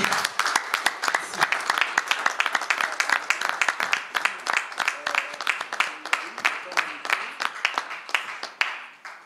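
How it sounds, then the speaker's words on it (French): Audience at a church book-signing event applauding and cheering to welcome the reverend, a dense run of sharp claps that thins into scattered claps near the end, with voices mixed into the crowd noise. "Sous vos acclamations, s'il vous plaît"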